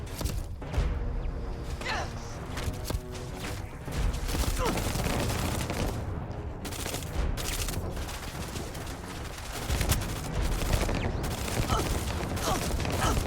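Heavy-recoil gunfire in the video game Starfield, a dense stretch of loud repeated shots and thuds layered over game ambience, with a voice speaking briefly in places.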